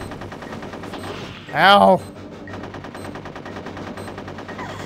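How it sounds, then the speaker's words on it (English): Rapid machine-gun fire into the floor in Conker's Bad Fur Day, a continuous rattling stream of shots throughout, broken by a short loud shouted cry partway through. "Stop shooting the floor, Conker."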